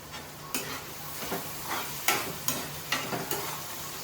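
Onions frying with a little salt in a pan for a chicken curry, a soft steady sizzle punctuated by regular sharp scrapes of a spatula stirring, roughly twice a second.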